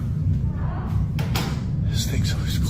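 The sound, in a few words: door closing or slamming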